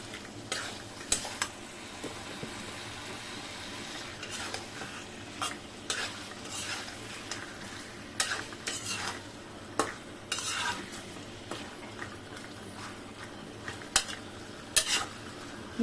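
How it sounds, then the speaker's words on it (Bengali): Boal fish heads being stirred and mixed in a frying pan for muri ghonto, with steady scraping and clinking of a utensil against the pan over a soft continuous sizzle, close and fairly quiet. "বোয়াল মাছের মাথাগুলো দিয়ে দিব। বিসমিল্লাহ। নেড়ে চেড়ে মিশিয়ে নিব।"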